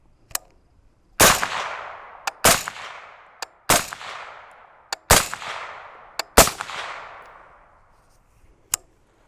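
Suppressed 5.56mm rifle fitted with a Q Lefty silencer firing full-auto: five short loud bursts spaced about a second apart, each decaying quickly, with isolated single shots in between and no talking.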